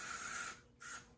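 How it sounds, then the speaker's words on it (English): Wax spray hisses onto the front of a wig in two bursts, a long one and then a shorter one after a brief pause, close and fairly quiet. "And I'm gonna spray my wax spray"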